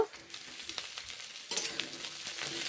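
Cauliflower pieces frying with onions in a pan: busy crackling sizzle with spatula scrapes and tosses, growing louder midway, heard up close with no speech.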